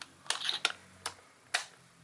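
Several sharp plastic clicks and snaps as a small Power Rangers Animal Force morpher toy (DX Zyuoh Changer) flips open, four distinct clacks spaced irregularly, close and fairly quiet.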